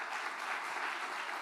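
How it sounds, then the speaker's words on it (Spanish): A church congregation applauds, a steady wash of clapping from many hands filling a short moment at moderate distance. "¿Cuánto le dan un aplauso a Dios?"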